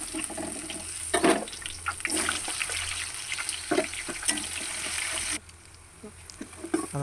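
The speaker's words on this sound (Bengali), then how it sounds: "তারপর দিয়ে দিচ্ছি পেঁয়াজ কুচি" Chopped onions dropping into hot oil with garlic paste and two green chillies, frying with a steady broadband sizzle, a few louder bursts of crackle and clatter, then a quieter, duller sizzle toward the end.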